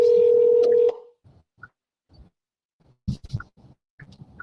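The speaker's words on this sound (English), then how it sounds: "let me try to call this caller one more time" Telephone dialing tones sound as a radio show host calls in a caller: a loud steady tone for about a second, then a quiet gap followed by scattered clicks and faint line noise, with no talk.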